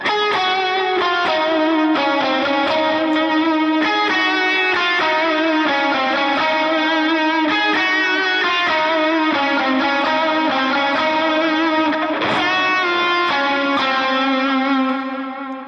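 Lead guitar plays the melody of a worship song, a sustained, steadily paced line of clear notes soaked in effects, with distortion, chorus and echo tails, loud and continuous with no talking.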